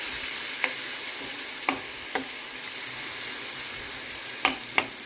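Tomato pieces fry in a pan with a steady, close sizzle, while a spoon scrapes and stirs in a handful of sharp knocks spread across the stretch. No one speaks.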